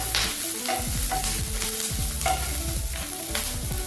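Pirandai (adamant creeper) fries in sesame oil with a steady, close sizzle and crackle, broken by repeated scraping stirs of a ladle against the pan.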